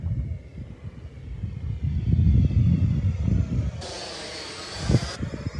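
An 80mm XFly Alpha Jet RC model jet passes by in flight, its ducted-fan engine a steady rushing whine that swells and then fades, with wind buffeting the microphone.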